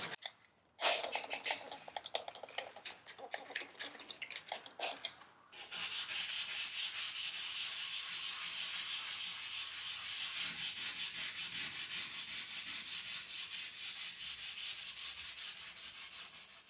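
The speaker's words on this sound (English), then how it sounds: "We're going to move on to 600 grit, sand that down a little bit" Hand sanding of a painted Honda Accord car panel with sandpaper: a few seconds of uneven scratchy strokes, then a steady, fast rhythmic rasp of back-and-forth rubbing, close and faint, with no talking.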